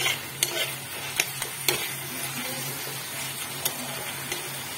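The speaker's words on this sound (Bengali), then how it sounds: "এবার আমি অল্প একটু চিনি অ্যাড করব, দিয়ে একটু গ্যাসটা বাড়িয়ে নেড়ে নেব" Onion and poppy seed paste being stirred in a pan on raised heat after sugar is added: scattered sharp taps of a spatula against the pan over a quiet, steady sizzle, heard close.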